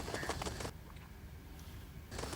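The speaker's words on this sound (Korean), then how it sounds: "새가 날아다니는 장면에 이제 효과음을 넣는다든지" An added sound effect of a bird flying in edited footage gives two short, close, fluttering bursts of wingbeats, one at the start and one at the end, with a quiet gap between them.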